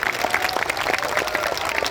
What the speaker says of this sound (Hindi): तो जोरदार ताली बजा करके इन दोनों को आशीर्वाद करें